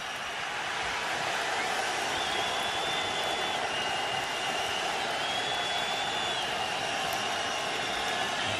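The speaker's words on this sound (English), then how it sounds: "this crowd is ignited, so it's going to be noisy for that offense." Dense, steady roar of a stadium crowd at a 2010 NFL football game between the Minnesota Vikings and the New York Jets, a broad continuous wash of cheering and noise holding at one level throughout with no clear speech.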